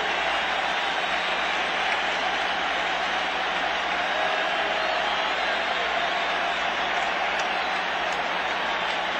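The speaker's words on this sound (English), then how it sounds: "Crowd coming up now." Baseball stadium crowd during a 1986 National League Championship Series playoff game between the Mets and Astros, a dense steady roar of cheering and applause sustained throughout, loud and broad with no talk.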